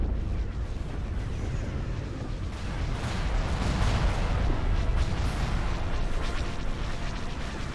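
Space fleet weapons fire pounding an enemy hangar in Empire at War, a continuous dense roar of explosions and blasts that builds slightly through the middle.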